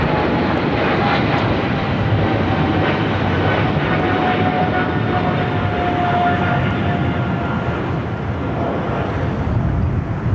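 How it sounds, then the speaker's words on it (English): A Spirit Airlines Airbus A320neo arriving from Las Vegas roars loudly and steadily as it crosses at LAX, a broad continuous jet rumble with a faint whine running through it and no talk. "Spirit Airlines flight 670 coming in from Vegas and the A320 Neo now crossing over."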